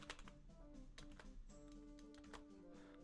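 Typing on a computer keyboard while scripting for the game Knights & Merchants: quick, light, uneven key clicks close by, over a faint steady hum, with no speech.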